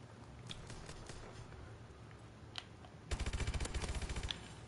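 Rapid automatic gunfire in Call of Duty: Advanced Warfare rattles out in a tight burst of evenly spaced shots near the end, after quieter scattered game noise.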